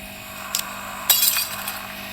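A glass cup shatters in a house, a brief clink followed by a bright crash and scattered tinkling fragments over a steady background hiss.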